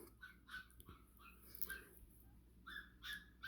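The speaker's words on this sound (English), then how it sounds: "new puppy, she's in the background" A new puppy whines and yelps faintly in the background of a quiet room, with several short squeaky bursts spread across a few seconds.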